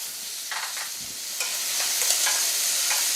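Pre-cooked lobster sizzling in a butter stir-fry with a splash of lemon juice, a steady close frying hiss broken by a few short scraping stirs of the pan, with no talking.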